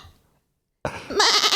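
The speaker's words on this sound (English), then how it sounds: "Is there a goat in here?" A goat bleats loudly and close by in a quavering, wavering call that starts abruptly after a brief stretch of near silence.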